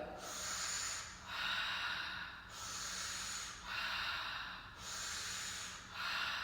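Heavy, forceful breathing during a standing twists exercise: five or six long, loud breaths close by, each a hissing rush in steady rhythm with short pauses between.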